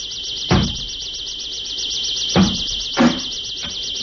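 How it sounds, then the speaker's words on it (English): Heavy thuds hit a door being broken down in a science fiction radio thriller, four dull bangs spaced irregularly under a constant high electronic warbling drone, with no talking. "Sounds like somebody's breaking down your door."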